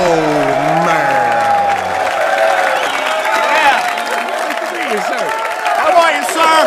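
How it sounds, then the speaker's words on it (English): A studio audience at a television comedy show applauds and cheers, loud sustained clapping with whistles and shouted voices rising and falling throughout. "Please, gentlemen, give a big round of applause for Brian Holtzman."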